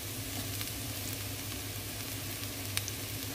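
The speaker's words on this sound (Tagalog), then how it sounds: "syempre, haluin natin ang mushroom" Mushrooms sizzle steadily in a frying pan while being stirred for a pasta dish, with a constant low crackle, faint scraping touches and one brief sharper clink near the end, close by and fairly quiet.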